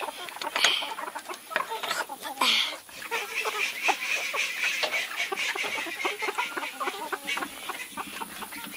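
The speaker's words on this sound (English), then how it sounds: "Oh, I see some chickens sitting on eggs." Chickens cluck on a farm in a steady, close chorus of short calls that runs throughout, with children's voices mixed in around them.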